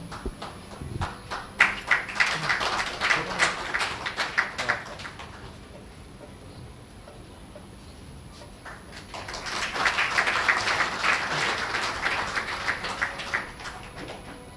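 An audience bursts into applause twice: a dense clatter of many hands, fading to a lull in the middle before swelling again just as strongly, with no talk over it.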